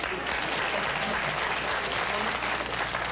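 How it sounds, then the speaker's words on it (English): A comedy club audience applauding: dense, steady clapping from a crowd that continues at an even level throughout, with no voices. "Why don't you all just clap for Peoria?"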